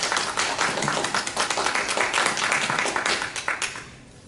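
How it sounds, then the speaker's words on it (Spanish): An audience claps for poet Porfirio Mamani at an evening interview event, a lively, fairly close round of applause that holds strong before tapering off into scattered claps and quiet. "Un aplauso para Porfirio Mamani."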